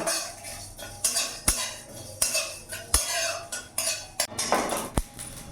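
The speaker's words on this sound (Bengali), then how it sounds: "এটাকে শুকনো কড়াইতে আমি ভেজে নেব।" Bay leaf, cumin and whole coriander dry roast in a hot, oil-free wok, a metal spoon scraping and clinking against it in repeated rhythmic strokes, close and clear with no talking.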